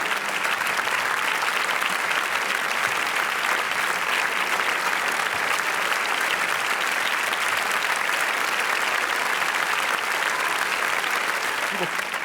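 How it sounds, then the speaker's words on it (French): A comedy-show audience in Paris gives sustained, even applause to a performer, a continuous wash of many hands clapping from start to finish without a break. "Je vous demande de l'applaudir à nouveau, mademoiselle Noël Bernard."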